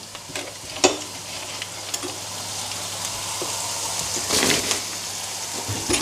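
Carrot pieces, soon joined by pumpkin, frying in a pan on a gas stove, giving a steady close sizzle with occasional stirring scrapes and clatters.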